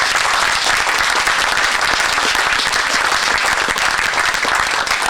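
Loud, sustained applause from a large audience at a talk, dense steady clapping filling the whole stretch without letting up.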